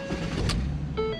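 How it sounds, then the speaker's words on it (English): A car engine starting with a newly cut and programmed key, a brief low rumble close by with a rising whine as it catches. "The car is now running with that key."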